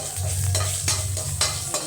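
Mustard seeds sizzle steadily in hot oil with crackling pops, and a utensil scrapes and stirs the pan in several strokes, close up, with no voices.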